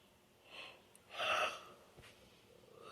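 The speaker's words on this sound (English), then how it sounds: "as I'm still yawning, here we are." A single drawn-out yawn with breathy inhale and a voiced stretch in the middle, close and fairly quiet, set in an otherwise still room.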